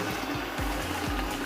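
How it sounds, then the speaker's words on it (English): Steamed tomato being poured into a pot for vegetable soup: a short, wet, sloshing pour with a few soft thuds and splashes, heard alone without talk. "I'm pouring the steamed tomato"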